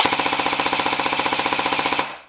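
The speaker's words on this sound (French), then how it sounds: "Et là, j'aurai une rafale de 30 coups." An airsoft gun with a mosfet set to burst mode fires a rapid, steady 30-round burst, a close, loud, evenly spaced mechanical rattle lasting about two seconds before cutting off.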